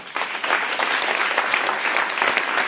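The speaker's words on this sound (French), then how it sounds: "j'aimerais qu'on l'applaudisse" Sustained audience applause at a gathering on municipalities and young children, a steady wash of many hands clapping close and loud from start to finish.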